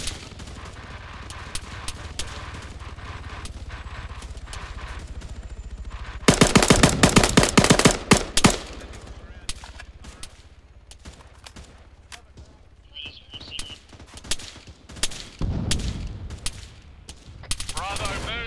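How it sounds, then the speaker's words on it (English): Bursts of automatic gunfire and scattered rifle shots crack through an ArmA 3 cooperative battle. The firing is densest and loudest in the middle stretch, mixed with tense voices over the combat. "Okay, we're taking fire."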